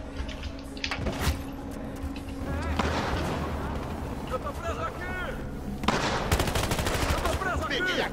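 Sniper and battlefield gunfire in the video game Battlefield Hardline, with several sharp shots and bursts of rapid fire over a busy background of game noise, while someone talks over it.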